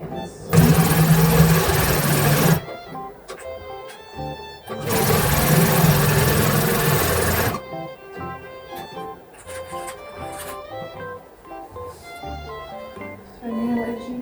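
A sewing machine stitching a cosplay skirt, with two long loud whirring runs separated by quieter pauses, and background music playing throughout.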